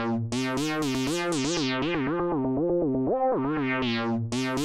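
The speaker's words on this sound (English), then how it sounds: "filter out with a driven low pass to introduce even more drive. And modulate the frequency so the lead comes and goes." A synth lead plays a sliding, wavering melodic line through a driven low-pass filter whose cutoff is modulated, so the bright, distorted tone keeps opening up and closing down as it comes and goes.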